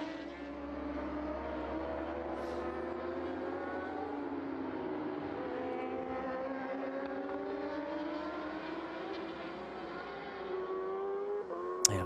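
BMW racing motorcycle in a race, its engine holding a steady high-pitched drone that shifts in pitch as it revs, loud and continuous, with a brief sharp burst at the very end.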